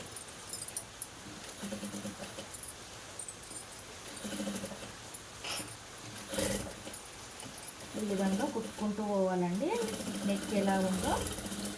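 A sewing machine stitches a back-open blouse with a low, steady mechanical whir in short runs, while someone talks over it almost the whole time.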